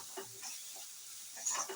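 Maggi masala being mixed into a pan of cooking food, with soft repeated stirring scrapes over a steady hiss of frying.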